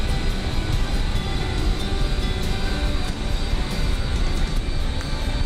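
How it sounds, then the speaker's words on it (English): Airliner jet engines in Microsoft Flight Simulator wind down, giving a dense, steady broadband roar with a faint high whine that holds evenly throughout without talk. "You could probably hear in the background that the engines are pulling down."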